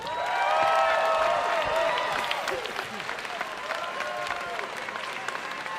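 Audience applause at a concert, with dense clapping and some cheering that start loud and close, then gradually thin and fade over several seconds.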